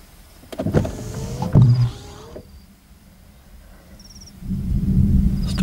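Thunder rolls over wetlands in low, uneven rumbles that rise twice and fade between them. A faint mechanical whir is briefly heard, and nobody speaks.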